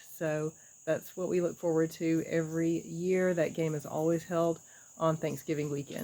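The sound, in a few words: cicadas humming and squealing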